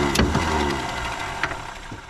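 A 1963 Mercury Comet V8 260, rat infested and unstarted for over 25 years, runs close by with a rough, steady engine drone and a few brief rising revs.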